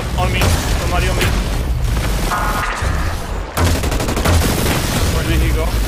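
Video game gunfire rattles in dense, loud bursts of rapid shots and booms, nearly continuous throughout, with players talking over it.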